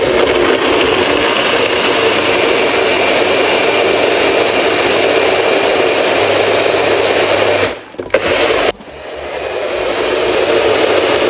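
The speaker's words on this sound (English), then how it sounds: "We're gonna blend it up." A blender whirs continuously at high speed, loud and close, pureeing kiwi, cucumber, ginger and lemon juice; near the end the motor briefly cuts out twice, then spins back up.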